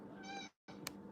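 A pet cat named Raven gives one clear, drawn-out meow up close, then breaks off into a brief silence before a muffled rustle and a sharp tick return.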